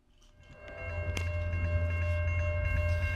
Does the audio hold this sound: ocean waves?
no